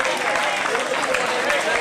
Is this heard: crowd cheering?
yes